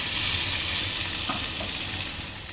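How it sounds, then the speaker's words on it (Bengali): Capsicum and tomatoes fry together in an oiled pan for paneer capsicum, producing a continuous close sizzling hiss that cuts off abruptly at the end, with no speech. "অর্ধেক টমেটো ক্যাপসিকামের সাথে ভেজে নেব"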